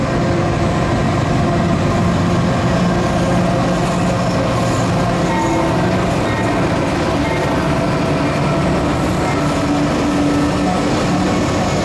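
Steady rumble of a passenger train in motion, a dense low roar with rattling and faint mechanical hum throughout, no voices.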